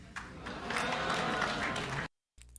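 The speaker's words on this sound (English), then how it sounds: "The fat guy right here is the only one clapping." A single person claps through a Nintendo Direct presentation, a dense patter of hand claps that holds steady for about two seconds, then cuts off abruptly.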